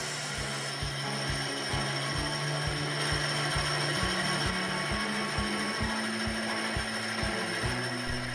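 A Grizzly G4000 lathe cuts a cast iron base with a steady, regular chattering thump and a tonal hum that shifts pitch partway through, running loud and continuous with no talking.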